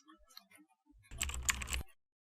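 Someone types names into an Excel spreadsheet on a computer keyboard. A faint scatter of light taps comes first, then a brief dense burst of close keystrokes that stops abruptly.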